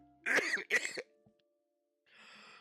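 A tabletop fantasy role-playing game player imitates a sick character coughing: two rough, throaty coughs close to the microphone, a brief quiet pause, then a softer breathy wheeze.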